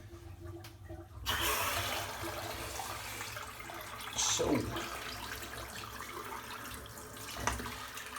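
Water runs steadily from a tap into a sink for a warm-water shave, a continuous hiss with a brief splash near the middle and a soft knock later on.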